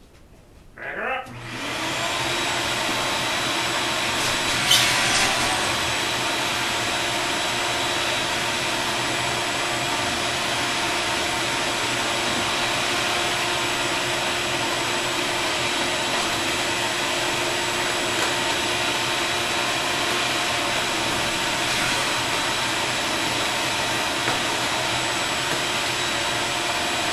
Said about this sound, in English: I'm going to vacuum up the floor